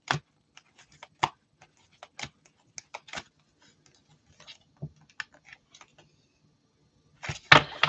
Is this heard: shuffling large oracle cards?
yes